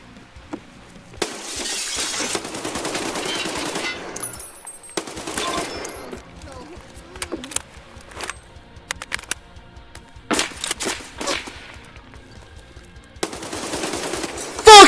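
Gunfire in the video game Escape from Tarkov: repeated bursts of automatic fire and sharp single shots, loud and close, with glass shattering and gaps of quiet between exchanges.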